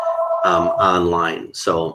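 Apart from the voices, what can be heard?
telephone ringing in the tech office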